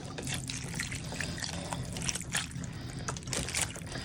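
Liquid pours steadily into a pot of homemade beef stew, a close, continuous splashing trickle with a few louder gurgles and no talking.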